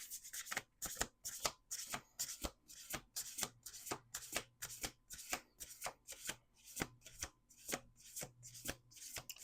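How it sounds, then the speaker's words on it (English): Close, steady hand shuffling of a The Price of Love Oracle card deck: about twenty crisp, regular slaps of cards over several seconds with a faint low hum beneath and no voices. "Last shuffle."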